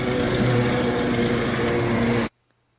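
A work-site machine engine, idle for six or seven months, runs loud and steady with a dense mechanical drone, then cuts off abruptly into silence.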